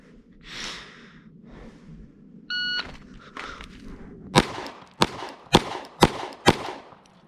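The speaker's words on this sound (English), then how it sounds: "We're shooting this with the Glock 48 from concealment." Five sharp pistol shots from a Glock 48 fired from concealment ring out in quick, evenly spaced succession, loud and close, after a few seconds of quiet breathing and a short electronic beep.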